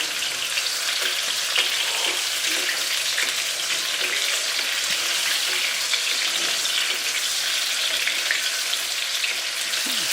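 Pieces of tinda, or round melon, fry in hot oil in a pan with a steady, dense sizzle, and a few light scraping sounds come from stirring.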